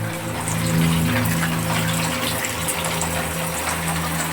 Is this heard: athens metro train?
no